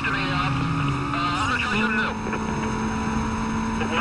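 A police helicopter chasing the player's car in the racing game Need for Speed Most Wanted (2005): a continuous, loud droning engine whine with steady rotor-like tones throughout.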